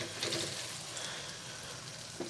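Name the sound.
masala with lobia beans cooking in a pan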